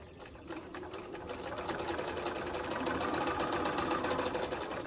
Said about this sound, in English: And I just sewed right to that line.